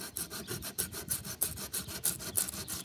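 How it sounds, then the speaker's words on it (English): A metal file wrapped in sandpaper is rubbed back and forth in tight places during a van conversion, giving about ten quick, regular rasping strokes, close and moderately loud. "I think this is a metal file, but this is what I use it for"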